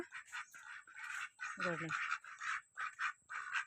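Close, rapid quacking from ducks in short repeated bursts, busy and fairly loud, with a brief lower call midway.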